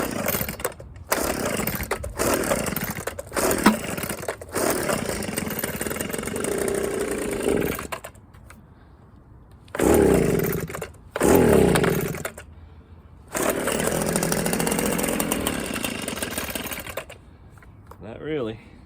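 An Echo PB230LN leaf blower with its choke on and a hard purge bulb, repeatedly pulled and sputtering into brief bursts of rough, loud engine running that cut out between attempts, with people talking at times.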